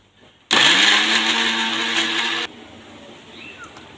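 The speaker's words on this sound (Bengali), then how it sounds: "এবার চলো মেথি এবার আমরা মিক্সিতে মিক্সার করে নেব" A kitchen mixer grinder blends soaked, softened fenugreek seeds with water. It starts abruptly, runs as a loud, steady motor whine for about two seconds, then cuts off, leaving a quiet room.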